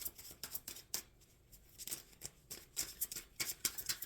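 Tarot cards are shuffled by hand up close, with quiet, irregular papery riffles and slaps repeating in short bursts.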